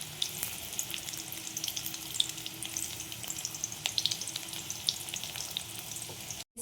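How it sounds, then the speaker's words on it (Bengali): Chicken kofta balls frying in hot oil, a continuous close crackling sizzle with scattered pops and spits, fairly even in loudness and briefly cut off near the end, with no one speaking. "দেখো চিকেন বলসগুলো আমি ভেজে নিচ্ছি।"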